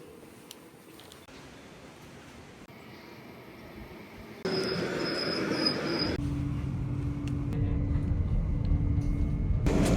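A Swiss train rumbles along between Visp and Blausee with a steady, rising drone and a brief high whine partway through, moderately loud and without voices.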